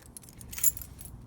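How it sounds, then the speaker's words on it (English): Car keys for a Nissan 240SX jangle briefly in a hand nearby, a bright metallic clink peaking once in the middle of a short, quiet moment. "I got my keys right here."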